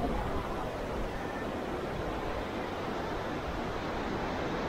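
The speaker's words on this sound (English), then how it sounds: "Now we are at the beach here" Ocean surf rolls in at a hot beach at Ganpatipule, Ratnagiri, India, a continuous broad wash of waves mixed with wind noise, fairly soft and steady with no talk.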